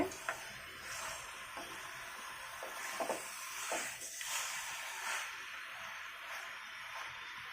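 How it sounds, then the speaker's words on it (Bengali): Chicken with spices, deshi chicken kosha, fries softly in a pan, a low sizzling hiss broken by occasional scrapes and stirring strokes turning the meat over. "আমি এটাকে এভাবে উল্টে পাল্টে খুব ভালোভাবে কষিয়ে নিব।"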